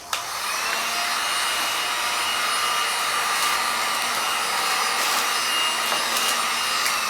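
A heat gun blows a steady, loud hiss against shrink wrap on a gift basket, unbroken for the full stretch with faint crinkling of the plastic as it tightens at the corners.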